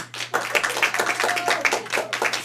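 An audience claps in a burst of distinct, fairly close hand claps, uneven and rhythmically loose, continuing steadily for a couple of seconds with no talking over it.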